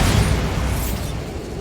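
Bombarda blasting spell explosion in the video game Hogwarts Legacy, a loud, deep boom that hits at once and then fades into a rumbling roar, with no voices.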